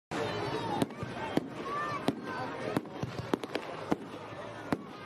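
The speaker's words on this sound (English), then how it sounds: "Yes, fireworks have gone off." Fireworks going off in a rapid string of sharp, crackling bangs at irregular intervals over a continuous hiss of background noise, fairly distant rather than close.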